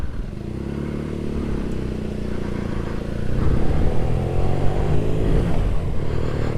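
BMW R nineT motorcycle with a 1170cc flat-twin boxer engine being ridden, a steady close throbbing drone that grows louder partway through as the rider accelerates, with wind noise around it.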